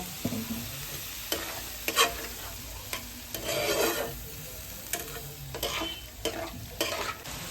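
Chicken pieces for chicken rolls fry in a pan while a spatula scrapes and stirs them, with repeated rasping strokes over a soft, steady sizzle close by.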